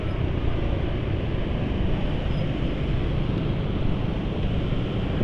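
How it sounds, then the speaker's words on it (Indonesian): A car engine idles steadily with cold, thin oil, heard from a short distance: a smooth, even, continuous hum with no roughness or knocking, holding the same level throughout. "Dan ya halus banget lah ya suara mesin itu ya, nggak sampai kasar ya."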